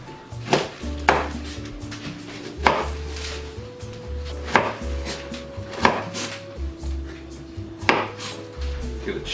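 Fresh ginger is chopped with a knife on a cutting board in a kitchen, about eight sharp, close knocks spaced roughly a second apart, with a steady low hum underneath.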